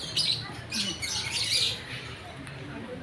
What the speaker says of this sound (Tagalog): Maririnig mo rito mga huni ng ibon.